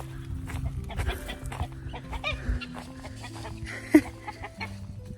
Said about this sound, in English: there's a chicken trying to get into my garden, and that is not okay